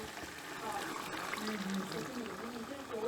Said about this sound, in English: Add the boiled water